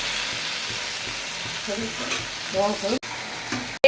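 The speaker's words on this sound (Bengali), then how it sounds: "কাঁচা লঙ্কা দিয়ে লতিটা এখানে একবারে মাছের মাথাটাও ভেজে দেওয়া হয়ে যাবে" Kochur loti and a hilsa fish head fry with green chilli and turmeric in a steady close sizzle, broken by brief stirring scrapes and faint voices in the background.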